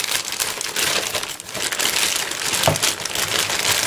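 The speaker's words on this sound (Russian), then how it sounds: "Блин, и пакетик шикарный" Plastic bag from Alp-Industria, handled and crinkled close up as a parcel is unwrapped, giving a steady, dense rustling and crumpling with no break for about four seconds and one sharper crackle near the end.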